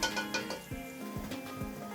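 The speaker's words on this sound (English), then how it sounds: "Saute the garlic for 2 to 4 minutes." Garlic sautéing over medium heat in a pan gives a soft, steady sizzle, with a few light metallic clinks of a utensil against the pan.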